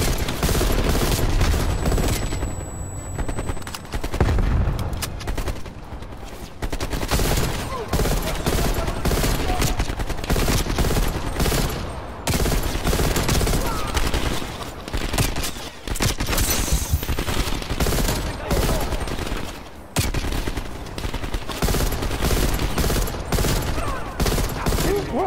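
Bursts of automatic gunfire and repeated shots fill a Call of Duty Black Ops Cold War firefight, loud and nearly continuous with brief lulls, with occasional voices in between.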